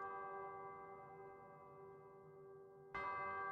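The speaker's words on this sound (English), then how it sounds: "You guys hear the bells?" A bell rings with a long, sustained tone that slowly fades, and a second strike sounds near the end. It is clear and alone, with no talking.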